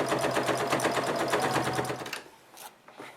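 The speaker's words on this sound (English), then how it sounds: "And then I'm going to sew again." A sewing machine stitches a fabric coupon organizer in a fast, steady rhythmic run, loud and close, then stops abruptly, leaving a few faint handling noises.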